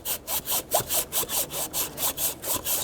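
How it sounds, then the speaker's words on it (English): Steady back-and-forth rubbing of emery cloth on a sanding block over a metal surface of a Toyota exhaust manifold, about a dozen even strokes in a regular rhythm, close up with no talking. "So I like to use a nice sanding block. I put emery cloth sandpaper"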